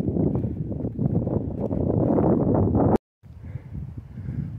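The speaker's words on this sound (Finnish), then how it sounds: "vaikka on kuuma ilma, mutta tuulee aika mukavasti viileästi" Wind on a summer hike in Repovesi National Park, Finland, buffets the microphone in loud, gusty low rumbles, breaking off abruptly for a moment before the blustery noise resumes more softly.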